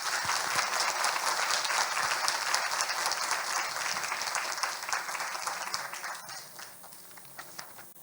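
Audience at a commemorative ceremony applauding recorder and piano performers, a dense, steady round of clapping from a crowd that gradually thins and softens toward the end, with no voices over it.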